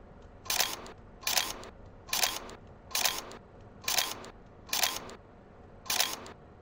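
Seven crisp mechanical shutter clicks from a Minolta XD7 film SLR, evenly spaced about every three-quarters of a second, close and clear with nothing else around them.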